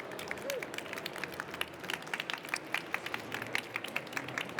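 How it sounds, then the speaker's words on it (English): Faint scattered clapping rises from an audience at a youth sustainable-business pitch awards event, brief and somewhat distant, with no cheering. "A big round of applause to all of them."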